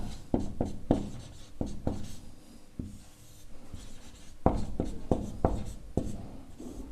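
Pen scratching across paper in a run of short strokes, pausing midway and then resuming, while a maths problem on a hemispherical bowl's curved surface area is written out by hand. Close and fairly soft, with no talking.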